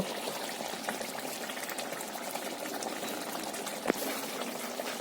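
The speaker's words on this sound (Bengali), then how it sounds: "এখন আমি ঘি দিয়ে দেব।" Ghee goes into a simmering coconut prawn curry (malai chingri) in the pot. It makes a steady, moderate bubbling and sizzling with a faint clink partway through, and no talking.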